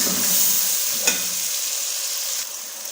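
Crushed garlic and ginger paste sizzle loudly in a hot pan for chicken matar, with one sharp scrape of the spoon as it is stirred and the hiss easing off slightly toward the end.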